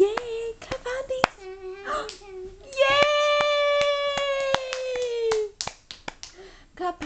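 A young child claps her hands in a series of sharp, uneven claps, with someone repeatedly talking and cheering around them and a sustained sung or spoken tone in the middle.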